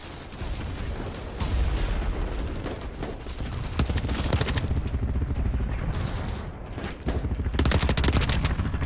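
Dense, continuous automatic gunfire in the video game BattleBit Remastered, with rapid rattling bursts fired into the ground and only brief pauses between volleys.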